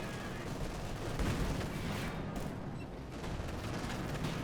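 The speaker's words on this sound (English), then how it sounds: "Turn it around and fire at them." Battle gunfire from the strategy game Company of Heroes 2, a dense and continuous wash of shots and distant booms with no clear gaps, moderately loud throughout.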